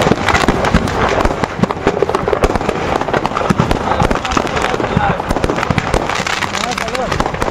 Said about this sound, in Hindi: उसके बाद आतिशबाजी का दौर शुरू हुआ, जिससे पूरा इलाका थर्रा उठा।